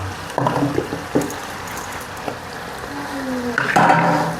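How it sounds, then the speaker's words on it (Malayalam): Ground spice paste is stirred into simmering Kerala-style beef kurma in a pot, with wet bubbling and sizzling, scraping stir strokes and a clatter of the spoon, all close and fairly loud. "അത് നേരത്തെ അരച്ചെടുത്ത അരപ്പ് ഇതിൽ ചേർക്കാട്ടെ നമുക്ക് നന്നായി ഇളക്കിയെടുക്കട്ടെ"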